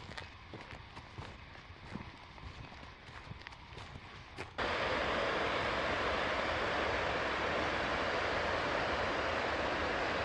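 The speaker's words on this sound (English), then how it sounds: "You can really hear the falls up ahead. Low drum beat kind of sound." Distant waterfall and rapids on a rugged forest trail; faint rustling and thumps give way abruptly to a loud, continuous broadband rush of water that fills the rest of the clip.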